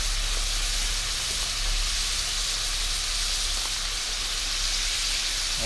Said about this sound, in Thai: อากาศฝนตกตกครับ